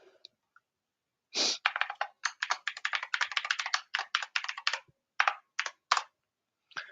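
Someone types a password on a computer keyboard while installing Microsoft 365 on Windows 11, producing a quick, close burst of clicking keystrokes with short pauses and a few final taps, no talking.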